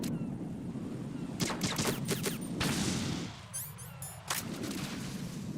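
Bursts of gunfire from the video game Metal Gear Solid 2 crack in quick clusters of sharp shots, with a short lull between volleys and scattered metallic clinks.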